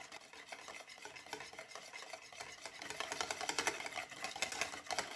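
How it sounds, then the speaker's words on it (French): A homemade liquid soap mixture being whisked by hand, a fast rhythmic scraping and clicking of the whisk that grows louder over about five seconds, with no voices. "Donc là on va mélanger avec un fouet"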